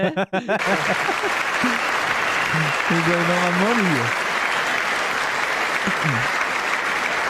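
Steady crowd applause fills the clip, with someone talking over it near the start and a voice speaking intermittently through the clapping.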